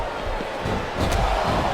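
A capacity arena crowd in the WWE SmackDown vs. RAW 2007 wrestling video game gives a steady, dense roar that swells slightly toward the end, with no talk over it.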